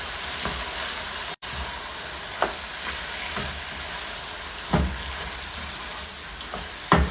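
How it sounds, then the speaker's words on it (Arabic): Shrimp sauté in a pan with a soft, quiet sizzle and a few brief stirring scrapes and taps scattered through. "الحين بنحط الربيان وبنشوحه لمده دقيقتين"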